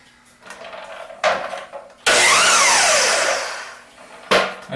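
Hand saw cutting through wood in a workshop: a loud, steady stretch of rasping strokes for about two seconds, preceded and followed by brief knocks and handling clatter.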